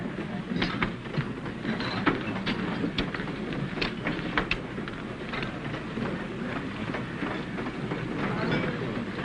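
A passenger train rumbles steadily along the rails with a continuous roar and rhythmic clicking of wheels over joints, heard from inside, loud and unbroken throughout.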